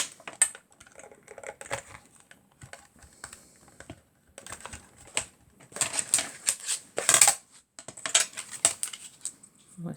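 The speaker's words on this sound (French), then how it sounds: "Je vais passer ça dans la petite décoratrice en espérant que ça passe." A small die-cutting machine feeds a card through for a greeting card, giving clustered bursts of crisp clicking and crunching with scattered taps, fairly close, with the loudest stretches near the end.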